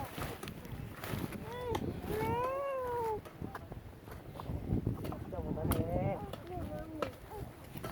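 A cat meows several times with drawn-out, wavering cries, close and clear, amid outdoor background noise while people talk nearby.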